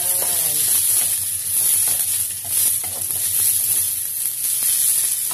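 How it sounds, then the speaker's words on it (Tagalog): Tulingan (bullet tuna) frying in hot oil gives a loud, steady crackling sizzle that carries on throughout with no pauses. "preto natin yung fish"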